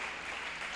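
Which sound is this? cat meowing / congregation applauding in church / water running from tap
congregation applauding in church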